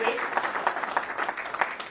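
A church congregation applauds in a brief burst of moderately loud clapping, with voices mixed into it.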